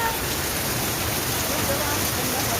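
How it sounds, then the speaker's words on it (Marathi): Dense, steady roar of heavy rain pouring down, loud and continuous throughout with no pauses. "ते बघा केवढा मोठा पाऊस आलाय बापरे केवढा मोठा"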